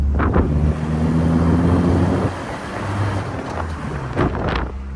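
A car drives along a highway on a long road trip to a car audio competition, its engine and tyre roar a steady, loud drone with wind buffeting the cabin and a slight dip midway.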